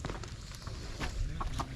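Soft, repeated clucking from a nearby chicken over a low rumbling background, with a few short clucks toward the end.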